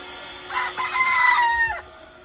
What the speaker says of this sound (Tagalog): yung matandang brood cock nila